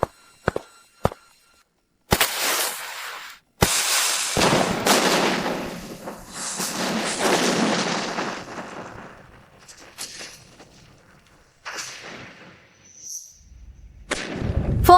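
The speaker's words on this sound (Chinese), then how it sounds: "准备第2轮炮击。" Cannon bombardment from an animated historical drama: a few sharp isolated booms, then a heavy roaring barrage of blasts and rumbling that swells and fades, with a last loud boom at the end, no voices.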